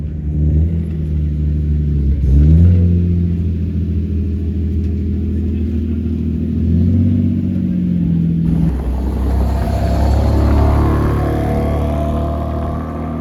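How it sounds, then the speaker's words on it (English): A BMW M4 pulls away at a car meet with a deep, steady engine rumble, a brief rev swell, then a shift to a rising, accelerating tone as it drives off nearby. "Got that BMW M4 already heading out, sounding nice."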